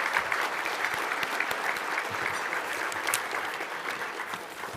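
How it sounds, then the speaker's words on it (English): Steady applause from a crowd at a city business awards and expo, honoring local valley leaders, moderately quiet and continuous throughout with no talking. "Let's give a round of applause for the leaders of our Valley here."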